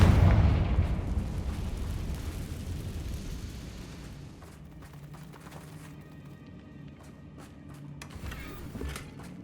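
A fiery Confringo spell explodes in the Hogwarts Legacy video game, a loud deep boom at the start that rumbles and fades over several seconds, followed by faint scattered crackles.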